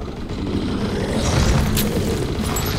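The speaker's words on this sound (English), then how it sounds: "larva explode." Larvae bursting in the survival shooter Undawn: a dense, steady low rumble with muffled booms running throughout, a brief bright crack near the middle, and no voices.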